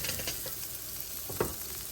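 Spaghetti fries in a pan for pasta alla assassina and gives a steady, close sizzle and crackle with a brief louder pop near the middle. No one speaks.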